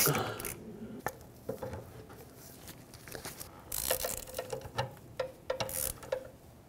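A sway bar link being tightened on a 2003-2008 Toyota Corolla, heard as scattered close ratchet clicks and short metallic tool sounds in uneven bursts, with brief talk mixed in.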